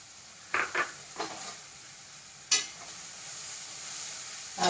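A spoon stirs grated coconut into sprouted green gram thoran in a pan, giving a few sharp scrapes and clinks against the metal over a steady soft sizzle, close by with no talking.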